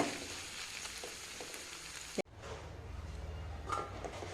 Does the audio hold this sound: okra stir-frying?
yes